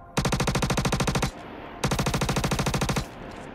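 An SMG in the space shooter Star Citizen fires two loud, close full-auto bursts of roughly a dozen rapid, evenly spaced shots each, separated by a short pause, with no talking.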